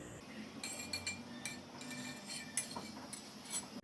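A spoon stirs milk heating in a kadhai for South Indian payasam, giving a steady run of light metallic clinks and scrapes against the pan, close and fairly quiet, with no voices.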